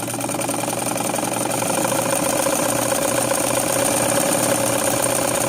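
A belt-driven sewing machine motor runs steadily and loudly for the whole stretch during circular sewing, a continuous mechanical drone with a rapid vibrating rattle from a loose motor mount.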